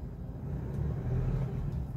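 Isuzu D-Max Double Cabin 2023 engine giving a brief light rev, a steady low rumble that swells slightly mid-way, close and fairly quiet with no talk.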